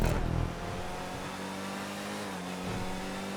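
Ardent sports car racing in GTA 5, a loud, close engine holding a steady high-revving tone with a brief dip early on, continuous throughout without speech.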